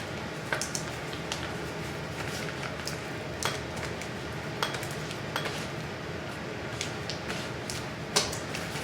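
Macaron batter scraped around a bowl with a spatula, giving soft repeated scrapes and light clinks against the bowl, close and fairly quiet, no talk.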